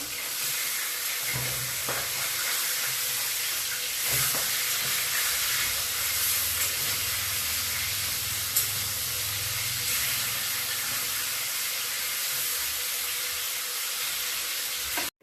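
Dried red chillies and cumin seeds crackle in hot oil as a tempering, a soft, even sizzle that runs steadily for about fifteen seconds without talk.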